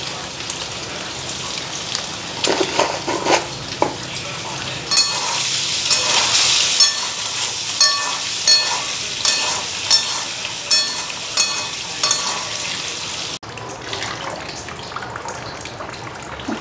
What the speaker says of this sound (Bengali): আর ডিম আলু ভাজা হয়ে গেল।